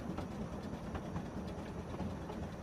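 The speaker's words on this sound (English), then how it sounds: "you can hear the sound of the train clickety-clacking on the track" A train rolling along its track in a passenger cabin, a steady low rumble with faint rhythmic clicks of the wheels running continuously throughout.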